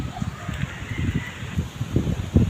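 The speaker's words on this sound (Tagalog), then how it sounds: "Hanggang ngayon malakas pa rin ang hangin" Strong wind buffets a microphone in low, irregular gusts that rise and fall, with faint rustling beneath, outdoors.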